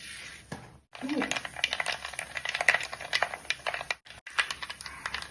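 Mustard seeds spluttering in coconut oil in a clay pot for Kerala-style fish curry, with dense, close crackling pops and sizzling that break off briefly twice.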